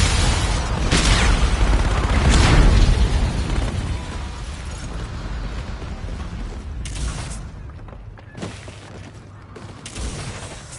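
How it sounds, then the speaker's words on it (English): A Trinity rocket strike slams into a contested hardpoint in a shooter game, with rolling explosive booms and bursts dominating the first few seconds, then decaying into lingering rumble and scattered pops. "Ally Trinity rocket arriving on site"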